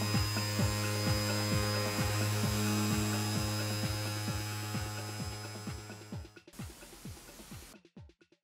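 A power sander wet-sanding a headlight hums steadily with a regular throbbing pulse, close and continuous, then slows and winds down near the end.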